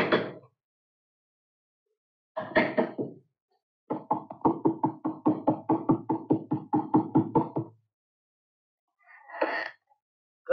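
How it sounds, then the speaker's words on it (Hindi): Repeated knocking on a door in a 1974 Hindi film scene: a steady, fast run of raps lasting several seconds, with short unrelated sounds before and after. "कब से दरवाजा खटखटा रहा हूं,"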